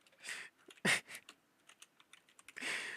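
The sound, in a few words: typing on a computer keyboard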